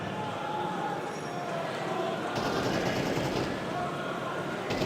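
Rifle gunfire from a Counter-Strike match at an esports semifinal, dense rapid bursts and spraying shots layered over crowd and game noise, steady and loud throughout.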